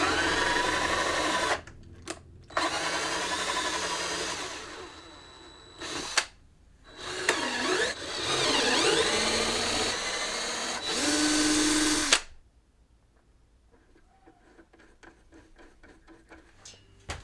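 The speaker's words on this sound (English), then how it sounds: "the last step is to create the thread for the bolts. And again, I'm using cutting oil for all the threads." A power tool cuts bolt threads with cutting oil into the metal mount for a Land Rover Defender window guard, whirring loudly in several bursts with short pauses, then falls quiet apart from faint ticking and handling noises.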